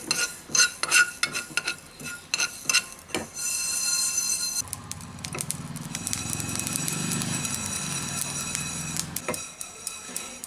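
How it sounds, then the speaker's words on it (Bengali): Fenugreek and black mustard seeds frying in a pan, opening with quick utensil scrapes and taps, then a steady close crackle and sizzle of popping seeds for several seconds, with a few more stirring clicks at the end. "এখন এটাকে আমি একটু ফ্রাই করে নিচ্ছি"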